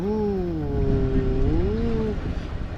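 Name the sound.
boat diesel engine surging revs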